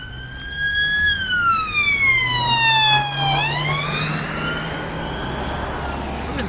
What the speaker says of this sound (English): that was a police car with a siren